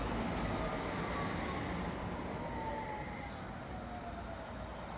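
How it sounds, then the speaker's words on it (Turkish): A train arrives beside a lake at a village near Biel, Switzerland, producing a steady, broad rumbling roar that fills the whole stretch at moderate level without voices. "Evet, tren de geldi."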